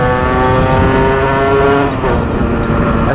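Sherco Factory 50cc supermoto engine revving hard in a loud, high, rising buzz close by, then the revs briefly drop off near the end.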